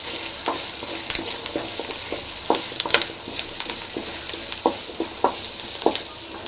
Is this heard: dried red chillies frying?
yes